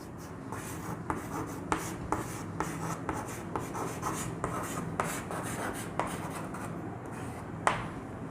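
Handwriting on a board or paper during a lesson on the Indian Constitution, with steady scratching and rubbing strokes and occasional sharper taps as letters are formed, close and continuous without talk.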